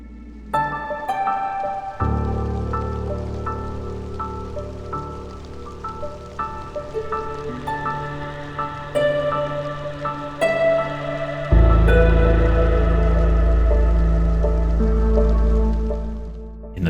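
Steady, soft drizzle patters and drips in the strategy game Against the Storm, continuous beneath a gentle melodic music score with sustained low notes that swell toward the end.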